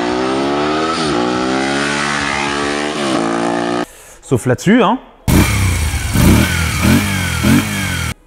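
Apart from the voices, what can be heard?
V-twin motorcycle engine revving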